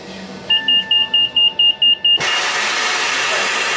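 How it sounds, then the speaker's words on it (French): KVB speed control system in an RER C train driver's cab sounds a rapid run of about eight even electronic beeps, then cuts to a loud steady rushing noise. "Vous allez entendre, ça va faire un bruit, un bip, bip, bip, bip, bip, bip."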